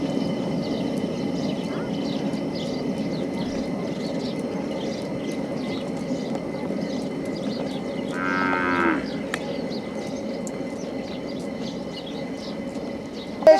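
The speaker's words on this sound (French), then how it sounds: "il y a des vaches" Cattle low and moo once at mid distance in a rural Indian village, a short drawn-out call rising above steady outdoor background noise and faint birdsong.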